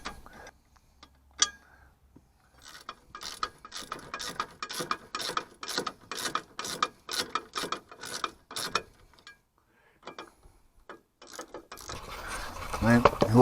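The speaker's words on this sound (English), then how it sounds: "Refit these two bolts on front here. Tighten these down." A ratchet tightens two front bolts on a Land Rover Discovery 2 during a lift kit fitting, giving a steady run of close, crisp clicks from a few seconds in until near the end, followed by a louder shuffling noise.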